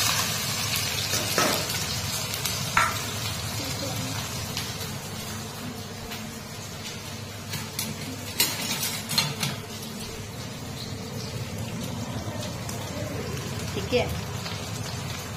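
Chopped onions dropped into very hot oil for a tadka, crackling and sizzling steadily throughout with a few sharper pops, while a person talks over the frying.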